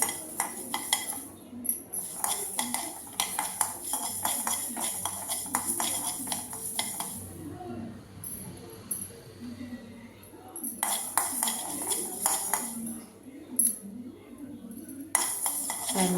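A spoon stirs and scrapes spices roasting in a metal pan for mango pickle, giving repeated close clinks and scraping over steady background noise, with a voice heard at times.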